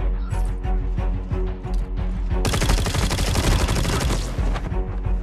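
Gunfire in a battle royale shooter set on Alcatraz, starting with scattered single shots and then erupting midway into a loud, dense burst of rapid automatic fire, with no talking.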